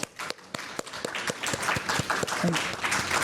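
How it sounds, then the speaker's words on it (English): A conference hall audience applauds three presenters at a session on development under a carbon neutrality declaration. Several sharp, spaced claps at first swell into steady, fairly close group clapping that builds to a full, even round. "Please give them a big round of applause."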